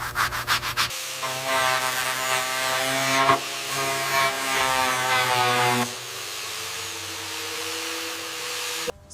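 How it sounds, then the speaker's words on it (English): A fine grit sandblaster works on the original wheel hub of an 1886 Daimler motor carriage, giving a loud, steady hiss with a pitched whine that shifts for several seconds and then cuts back to a quieter hum. "We're using a fine grit sandblaster to carefully remove over a century of grime."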